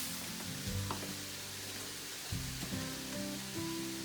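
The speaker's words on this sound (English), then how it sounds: "So you're kind of deglazing the pan, the bottom of the pan a little bit with that" Sherry cooking wine hisses in a hot pan as it deglazes the bottom, making a steady, faint, broadband sizzle with soft stirring bumps under quiet background tones.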